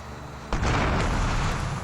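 A sudden heavy explosion boom bursts in during GTA Liberty City Stories gameplay, followed by a sustained rumbling roar that fills the rest of the moment.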